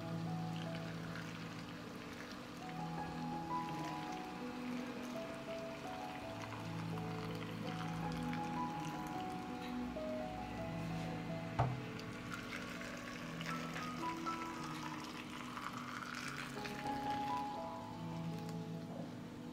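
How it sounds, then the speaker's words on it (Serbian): Boiling water being poured into glass jars packed with cherries, a soft continuous trickling and splashing stream, quiet and close with faint background hum and no talk. "Voda je proključala i sipat ću je u tegle."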